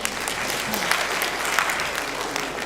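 A conference audience at an African curriculum association meeting in Nairobi breaks into dense, steady applause for the Minister of Education, a full crowd clapping continuously at even loudness.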